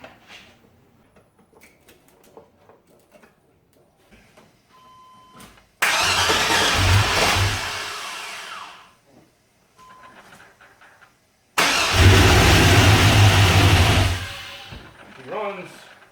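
A Chevrolet LS engine, freshly wired with a homemade harness, cranks twice: one start catches and roars for a few seconds before fading, then a second loud start revs and settles, with quiet shop noises between.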